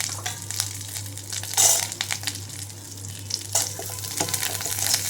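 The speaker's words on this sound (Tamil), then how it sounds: "அதை போட்டு நல்லா வதக்குவோம்." Peeled garlic sautéing in a hot pan, a steady close sizzle and crackle with scraping stirs and a few louder bursts, no voices over it.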